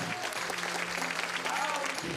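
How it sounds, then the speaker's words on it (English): Crowd applauding Shigeru Miyamoto at E3 as he comes out to play his new game, a steady wash of clapping throughout with cheers and voices mixed in. "And it was just a happy crowd to see him come out and play his new game."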